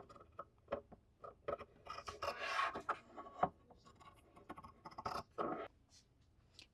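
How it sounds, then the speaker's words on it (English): Scissors trimming fabric around quilt batting for a bowl cozy, a series of soft close snips and rustles at irregular intervals, quiet with no talking. "I have now trimmed the fabric around the batting."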